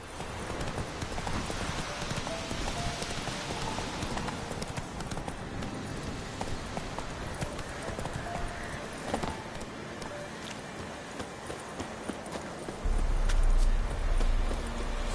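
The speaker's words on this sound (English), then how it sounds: "Whoa there, Roach." Hooves of a horse in The Witcher 3 clip-clop in a fast, steady galloping rhythm amid game ambience, continuing throughout, with a heavier low thump near the end.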